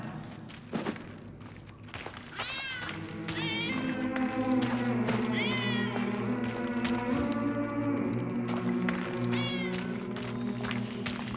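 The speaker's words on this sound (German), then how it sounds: "Wie zum Teufel kommt die Katze hier rein?" A cat meowing repeatedly in 11-11: Memories Retold, several rising and falling cries over a low rumbling background, with a few footsteps and some voices.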